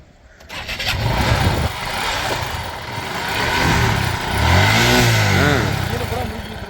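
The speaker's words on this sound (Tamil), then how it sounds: "வண்டி ஓட்டம் போட மாட்டேங்குது." A vehicle engine is cranked repeatedly as someone tries to start it, sputtering, then roaring briefly in loud, uneven revs, with voices in the background.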